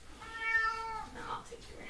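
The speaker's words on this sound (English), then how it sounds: "now the dog's coming in here, which is really gonna rile the cat up" A house cat gives one drawn-out, wavering meow close by, with a person speaking softly around it.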